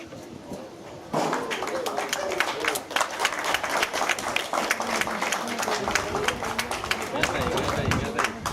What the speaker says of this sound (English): give a round of applause for the alligator